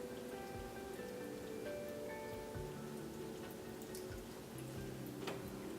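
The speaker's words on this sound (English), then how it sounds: "the rain on the rafters isn't going to kill him" Rain falling on wooden rafters, a faint steady patter with scattered drips under low sustained tones, quiet and continuous.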